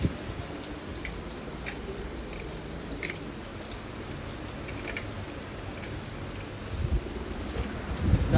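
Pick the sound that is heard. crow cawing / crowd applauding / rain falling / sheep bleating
rain falling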